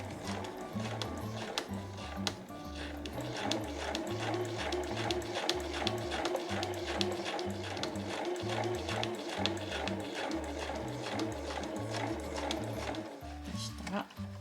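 A sewing machine stitches fabric for a small drawstring pouch, its motor running in steady rhythmic bursts of fast needle clatter with brief pauses between runs, close and moderately loud throughout.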